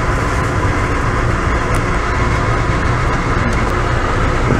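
Steady rumble of a passenger train running, heard from aboard train 88 travelling between DC and New York, with a continuous loud roar and no talk.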